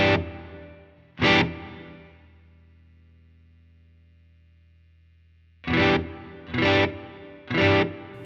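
Electric guitar played through the Ganymede reverb on a Line 6 HX Stomp, set as a short room-style reverb: one chord left to decay slowly, then a second sustained chord, followed by three sharp strummed chords in steady rhythm.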